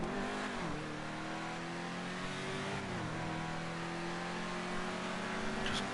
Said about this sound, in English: The sound of the engine is so gorgeous.